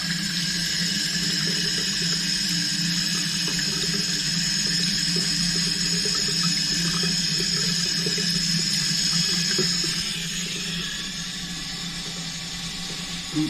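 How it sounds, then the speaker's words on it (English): Steady rush of hot water pouring from a newly installed sink faucet, continuous and fairly loud, easing slightly toward the end. "Here comes the hot water"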